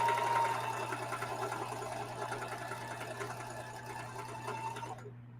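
A sewing machine runs steadily while backstitching a seam on a denim jeans quilt, with a continuous close mechanical whir and rapid needle rhythm that stops abruptly near the end.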